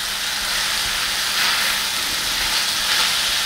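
A 2.5-pound pork shoulder browns in a pan, giving a steady, fairly loud broadband sizzle and hiss. The spitting holds constant for the whole stretch, with no talk over it.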